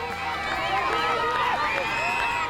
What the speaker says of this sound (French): la population, sortie nombreuse, acclame les coureurs